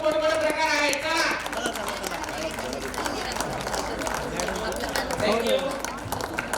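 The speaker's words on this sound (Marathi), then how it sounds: "वाजवा टाळ्या, टाळ्या वाजवत राहा." A group of teachers and students at a school reunion claps hands in a steady shared rhythm, loud and close, mixed with a leader's chanting voice and crowd noise.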